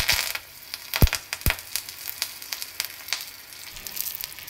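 Curry leaves dropped into hot oil for a dal tempering crackle and spit in sharp, scattered pops over a soft, steady sizzle, with a few loud bursts early on and lighter crackles afterwards.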